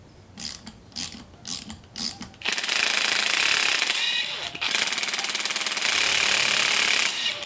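A ratchet wrench clicks rapidly while removing 6mm Allen key bolts from a Mazdaspeed 3 transmission during a rebuild, first in short separate bursts, then in long, loud, continuous runs close to the microphone.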